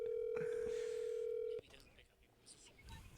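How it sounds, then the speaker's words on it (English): A phone call rings out as a single steady tone for about a second and a half, loud and clear, then cuts off abruptly into quiet line noise. "Currently ringing the phone."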